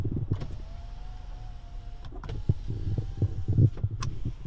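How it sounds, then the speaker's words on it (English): Electric motor whir of the power sliding rear window on a 2019 GMC Sierra 1500 Denali crew cab, a steady hum running for about two seconds, then a shorter second run, amid faint cabin clicks and thumps. "this is going to control that sliding rear window in the back"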